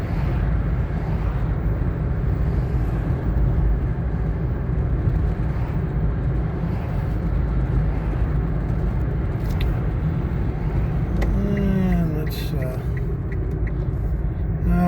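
A 2017 Nissan Leaf electric car with a 40 kWh battery drives along at about 33 mph, giving a steady, close road and cabin rumble that runs throughout, with a person talking over it.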